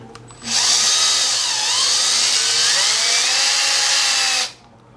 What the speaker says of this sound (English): I just run the 1/4" drill through here.